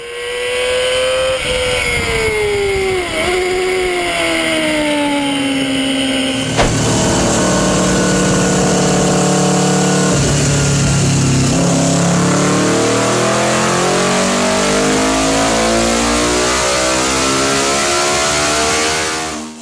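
A small 250cc motorcycle engine screams at high revs, rising and shifting through gears in a loud, sustained howl.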